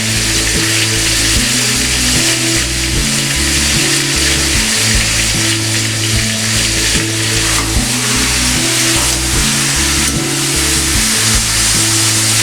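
Curry leaves crackle and sizzle in hot oil for a dish of Andhra-style chicken chintamani, a loud, continuous close-up fry with occasional low knocks from the pan and no talking.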